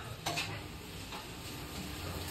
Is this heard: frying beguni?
yes